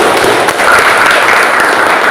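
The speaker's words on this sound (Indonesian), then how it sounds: "tepuk tangan untuk Rizal." A room full of people claps steadily, dense loud applause continuing throughout with no voices standing out.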